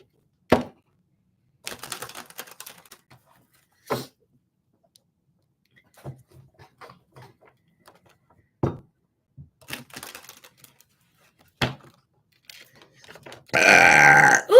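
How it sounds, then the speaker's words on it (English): A string of separate burps, close and fairly loud, sounds with quiet pauses between them, ending in a longer, noisier burst. "Spirit makes me burp."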